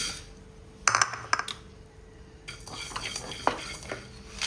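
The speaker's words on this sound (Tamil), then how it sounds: "மல்லி வறுத்துக்கிறேன்" Coriander seeds being dry roasted and stirred in a pan alongside pepper for a country chicken rasam, with close scraping and rattling of the spoon against metal in a few sharp clatters over a soft background hiss.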